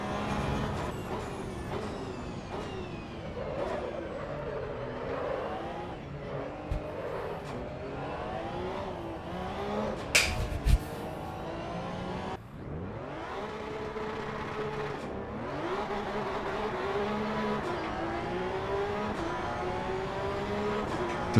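Porsche Cup race car engine in Assetto Corsa EVO, a loud steady engine note rising and falling through gear changes, revving up repeatedly with no talk over it.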